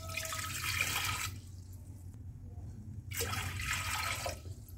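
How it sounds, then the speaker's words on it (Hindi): Two glasses of water pour into a pressure cooker holding dal and spices, in two steady splashing bursts separated by a brief pause, close by with no talking. "अब हम कुकर में 2 ग्लास पानी देंगे अपनी दाल को उबालने के लिए।"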